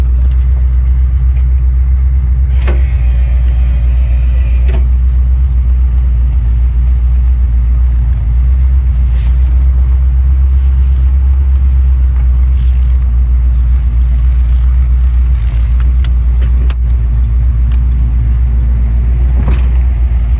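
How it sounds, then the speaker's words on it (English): A Chevy Nova rolling along with its engine rumbling heavily and steadily, deep and loud from inside the car, with a few faint rattles and clicks and no talk. "Let me drive his car. Let's see how it rolls."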